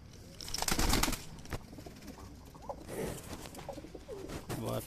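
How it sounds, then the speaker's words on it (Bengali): Pigeons in a flying loft coo repeatedly in soft rising calls, with a burst of wing flapping and rustling near the start and scattered coos continuing close by. "ফের দেখাচ্ছি ফ্লাইং ঘরের পায়রাগুলোকে"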